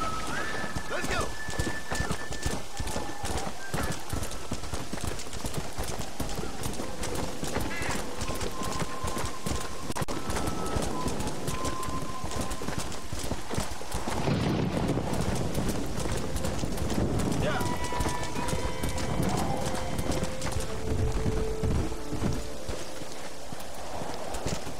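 Rapid hoofbeats pound steadily throughout as a horse gallops in the video game Red Dead Redemption, with occasional tonal game music and a voice speaking over the rhythm.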